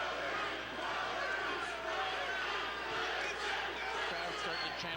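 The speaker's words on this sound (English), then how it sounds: "Crowd starting to chant for Aurey." A boxing crowd at a professional bout chants for a fighter, a loud, steady roar of massed voices that continues without a break.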